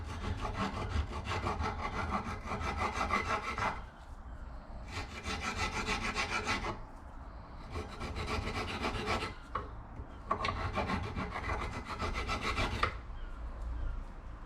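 A hand file scraping surface rust off a front brake disc on a 2010 Vauxhall Corsa SXi 1.2 petrol, long steady rasping strokes in four sustained passes with brief pauses, loud and close.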